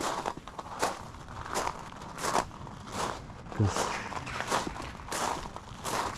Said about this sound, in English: I was a little bit worried about the noise of the gravel.